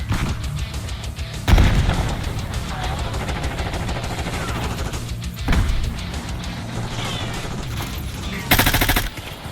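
Dense, continuous gunfire with sharp louder bursts and grenade booms from a Call of Duty: Black Ops 6 battle, sustained throughout without pause.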